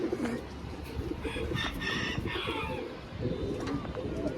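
A young pigeon coos in low, soft, repeated rolling calls, fairly close, over a steady rustling background.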